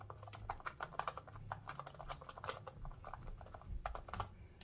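Samsung Galaxy Book Pro 13-inch laptop keyboard being typed on in a steady run of soft, quick key clicks, close and fairly quiet, with no voices.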